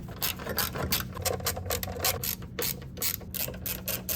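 Ratchet wrench tightening a bolt in the engine bay of a BMW E36 328ti, a rapid run of close, loud clicking strokes in bursts with brief pauses between them.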